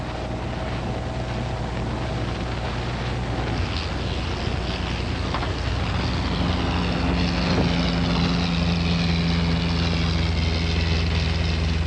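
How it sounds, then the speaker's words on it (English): A helicopter sits on the ground and spools up for takeoff, giving a loud continuous rotor and turbine roar with a rising whine. The noise is close and steady, with no talk over it. "Helicopter"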